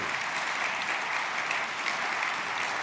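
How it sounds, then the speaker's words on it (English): Audience at a Siemens keynote at CES 2024 applauding, an even, continuous wash of many hands clapping with no gaps, heard alone and steady throughout. "So please give a huge round of applause for Yoshi."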